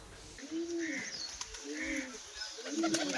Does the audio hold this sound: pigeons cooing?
yes